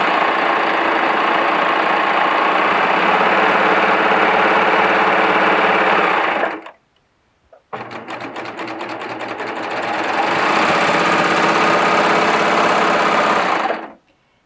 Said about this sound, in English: we are stitching the 2 seam allowances together, not separately